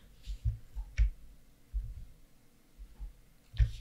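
Computer mouse clicks while UV mapping a gingerbread cookie model in Maya 2023: close, sharp taps, some in quick doubles, spaced irregularly across a quiet room with faint low thumps underneath.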